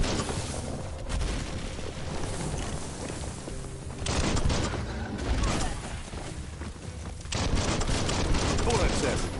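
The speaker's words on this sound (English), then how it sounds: "Bullets everywhere." Dense gunfire and bursts of shooting in the video game Biomutant, loud and continuous throughout, rising in intensity in waves, with a voice talking over parts of it.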